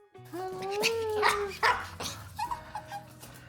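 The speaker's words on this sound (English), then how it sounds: "So those are my 2 little doggies." A Pomeranian and a Chihuahua bark and yip close by in short, sharp bursts, with some whining howl-like tones between barks.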